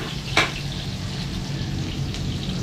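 Food is sautéed in a pan, a steady close sizzle with a sharp clatter early on and a lighter scrape later, no voices over it.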